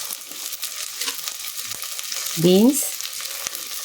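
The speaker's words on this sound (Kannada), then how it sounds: "ಇವೆಲ್ಲವನ್ನು ಎಣ್ಣೆಯಲ್ಲಿ 1 ನಿಮಿಷ ಚೆನ್ನಾಗಿ ಫ್ರೈ ಮಾಡ್ಕೊಳ್ಳೋಣ" Peas, beans, carrot, kohlrabi and potato frying in hot oil for veg kurma, a steady crackling sizzle with a brief stirring scrape midway, close and alone without talk.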